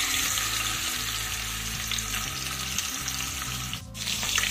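Katla fish pieces frying in oil in a pan give a steady, loud sizzle with faint bubbling crackle throughout and a brief dip near the end.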